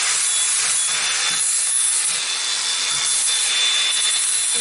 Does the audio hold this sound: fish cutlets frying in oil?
no